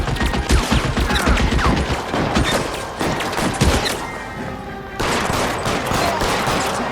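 Sustained rapid gunfire from a shootout in the video game L.A. Noire, dense bursts of shots and impacts filling the whole stretch, loud and close, with a brief dip before the barrage resumes.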